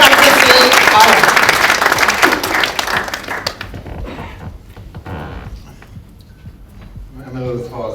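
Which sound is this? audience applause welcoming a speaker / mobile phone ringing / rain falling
audience applause welcoming a speaker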